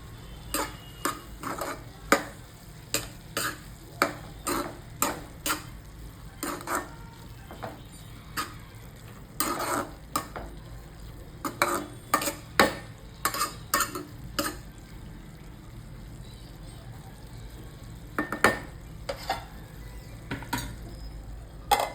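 A moth bean curry being mixed after coriander is added, with a spoon knocking and scraping against the pot in irregular bursts over a faint sizzle, close by and without talk.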